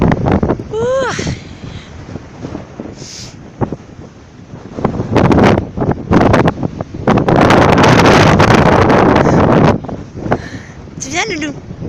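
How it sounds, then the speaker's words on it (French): A cold wind blows across an open field and buffets the microphone in loud, rumbling gusts that peak midway and then ease off, with a couple of brief vocal sounds near the start and end. "C'est le vent qui est frais en fait."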